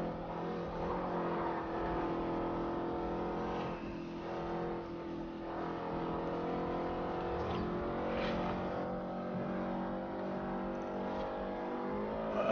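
A racing car's engine runs in the Forza Horizon video game as a continuous loud drone with layered engine tones that swell and dip slightly, with no talking over it.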